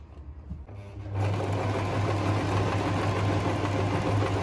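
A sewing machine sews a zigzag stitch through fabric. After a quiet start its motor kicks in at about one second and hums loud and steady up close, with a rapid mechanical patter that runs to the end.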